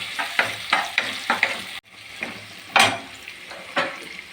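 Ingredients for appalam kuzhambu sauté in a pan, sizzling loudly and close, with a rhythmic run of stirring scrapes, a brief pause, then more stirring and bursts of frying, with no one speaking.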